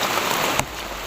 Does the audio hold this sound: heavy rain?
yes